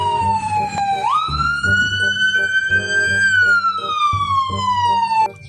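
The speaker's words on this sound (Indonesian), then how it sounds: "Wah, mobil ambulan." A toy ambulance siren wails in one long, steady tone that bends upward, holds, then slowly falls, loud and close, with soft plastic knocks and clatter underneath.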